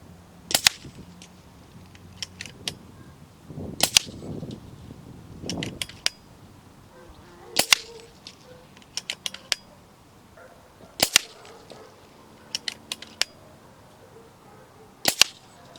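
FX Crown air rifle firing H&N .218 slugs, a series of six or so sharp, close cracks spaced a few seconds apart, with quieter clicks and handling noises of the rifle between shots, no talk.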